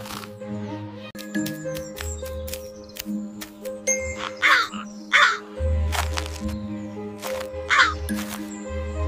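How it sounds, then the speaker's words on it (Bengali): A cartoon crow caws loudly several times in bursts over a music bed with chimes and tinkling bell tones. "তারপর কাকটি খুব জোরে কা কা করে আওয়াজ করলো।"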